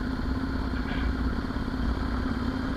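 A motorcycle engine runs steadily on a neighborhood cruise, a close, continuous low throb with a faint mechanical clatter and no pauses, no voices over it.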